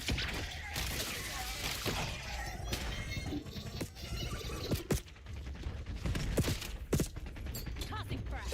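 Gunfire in the shooter video game Black Ops 7, with sharp bursts and scattered shots popping over a busy game mix of thuds and mechanical clatter, with a player's voice talking over it.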